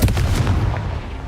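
A fiery Confringo spell blast in the Hogwarts Legacy video game: a short, heavy, low boom that rumbles and fades within about a second.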